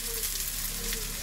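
Turmeric and salt sizzling in hot oil in a pan for a fish curry, a steady close frying hiss with no talk.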